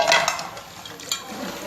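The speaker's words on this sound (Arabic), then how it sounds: "هنشطف قدامكم المواعين" Aluminium pots and pans are rinsed with water outdoors on a rainy day. Light clinks of metal and splashing water come and go in a few soft bursts.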